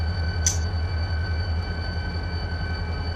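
A freight train in the Run 8 train simulator game, running in BNSF's La Mirada yard, gives off a steady low rumble with a continuous high whine and one brief hiss near the start, and nobody speaks.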